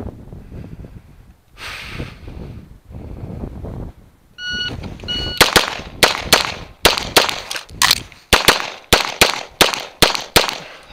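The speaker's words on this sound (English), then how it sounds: "I fired a third shot because I saw one high left." Gunshots at a shooting training session, a string of loud, sharp cracks fired in quick succession, roughly a dozen shots with short even gaps, following a few seconds of rustling and a brief electronic beep.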